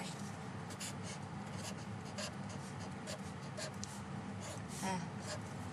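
Pen writing math on paper, soft continuous scratching strokes close up, in short bursts over a steady background hiss.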